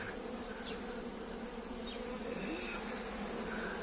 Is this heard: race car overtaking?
no